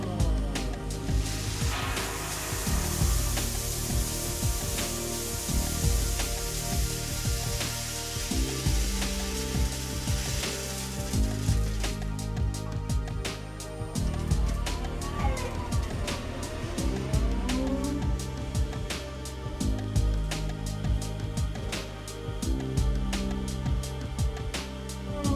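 A Walther Trowal centrifugal disc finishing machine being loaded and run, with parts dropping gently into the work bowl, giving a dense sizzling, rattling wash of tumbling media and parts that grows busier and more clattery partway through.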